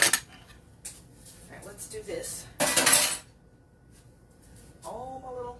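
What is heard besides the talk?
dishes clattering while loading a dishwasher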